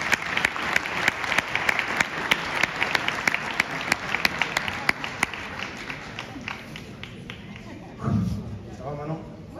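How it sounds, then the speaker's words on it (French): An audience claps in tribute at a national meeting of working-class neighbourhoods: crisp, closely spaced claps that thin out and fade over several seconds before a voice speaks over the quiet room. "Un tonnerre d'applaudissements pour Awa"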